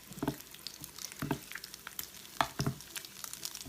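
Bacon sizzles and crackles inside a Range Mate microwave grill, a steady faint frying hiss broken by irregular pops and spits, close up with no talking.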